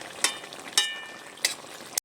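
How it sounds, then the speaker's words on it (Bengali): Fish curry with cumin powder is stirred in a pan. A steady frying sizzle runs under four sharp scrapes of a utensil against the pan, spaced about half a second apart. "জিরে গুঁড়োটা দিয়ে একটু নেড়ে চেড়ে নেব"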